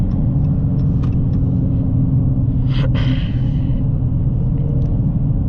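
A 2020 Dodge Charger Scat Pack with the 392 Hemi cruises along, heard from inside the cabin as a steady, loud, low engine and road rumble, with a brief breathy rush midway.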